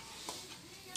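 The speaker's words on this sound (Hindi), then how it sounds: "थोड़ा सा फ्राई करेंगे ताकि थोड़ा सा ब्राउन कलर आ जाए" Chicken pieces frying in a pan for chow mein give a faint, steady sizzle with a few soft stirring scrapes, heard alone without talk.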